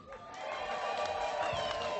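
A crowd at a send-off celebration applauds and ululates, a dense sustained wash of clapping with high trilling cries rising over it, loud and continuous through the moment.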